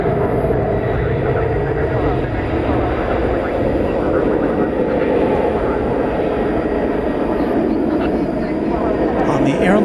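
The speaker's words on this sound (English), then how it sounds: "American 1109 to Tucson, Arizona. A 737-800." An American Airlines Boeing 737-800 on flight 1109 to Tucson rolls at DFW Airport at night, making a loud, steady jet roar that lasts the whole stretch, with a voice talking underneath.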